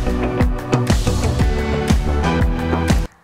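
Dance groove in 12/8 with a triplet eighth-note pulse, a dense produced track with punchy kicks repeating at an even swing pace, loud and full, cutting off abruptly at the end.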